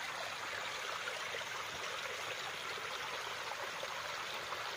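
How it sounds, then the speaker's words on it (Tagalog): A small stream fed by a spring runs through a farm lot beside a river in Laguna, a soft continuous trickling and rushing of water, faint and steady without voices. "May sapa siya dito sa loob mga kapraps."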